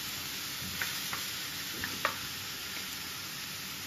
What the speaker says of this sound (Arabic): دابا غادي ندير الكفته ديالي، غندير الكفته ونحاول معها فوق العافيه